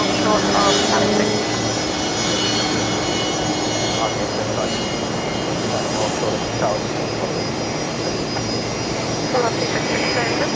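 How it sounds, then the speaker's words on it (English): A Fokker 70 jet taxis onto its bay at Brisbane Airport, a loud continuous engine roar and whine with a high tone swelling midway, steady throughout. "another Fokker 70 just arriving onto the bay there"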